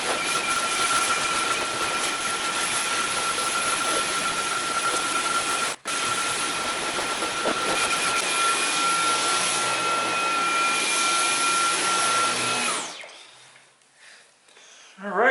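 A Dyson V11 Animal cordless vacuum runs steadily and loud while cleaning a room, a constant high whine with one brief dropout partway through, then the motor cuts off and the sound fades near the end.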